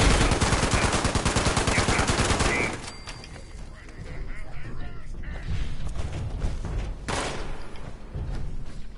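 Rapid automatic gunfire from a Fallout 76 firefight on PS4 rattles loud and dense for about three seconds, then gives way to scattered shots and a sharper burst near the end.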